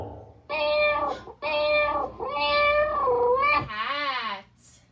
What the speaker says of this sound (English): Can you make the sound of a cat?